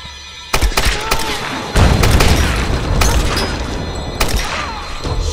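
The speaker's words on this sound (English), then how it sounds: "Uh-oh. Flashbangs." Flashbang explosions in the Tomb Raider 2013 video game: loud booming blasts with sharp bangs and dense rumbling game noise that stays heavy throughout, with a few fainter thuds.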